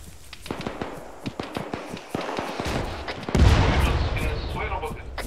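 Explosions and shots burst close by in ARMA 3, first a rapid string of sharp cracks, then a heavy deep blast followed by a rumbling roar, with a voice speaking in between.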